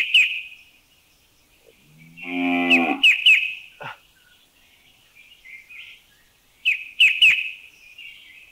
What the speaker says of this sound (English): There is another case of interference here, and it's a cow.